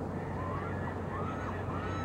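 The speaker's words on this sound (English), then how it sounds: "There are some noisy birds." Noisy geese honking at night near a moored boat, faint, scattered calls over a low steady background hum.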